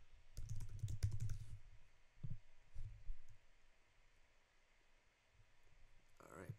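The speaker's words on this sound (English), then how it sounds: "Just typing in some test info." Quick bursts of keyboard typing, soft clicks in short runs with pauses between, close and fairly quiet in an otherwise still room.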